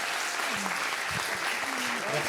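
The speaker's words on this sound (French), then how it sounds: "Tonnerre d'applaudissements pour Harish, s'il vous plaît." Film festival audience at Ciné-Mantes applauds Harish Gala, a steady crowd clapping wash with a voice speaking over it.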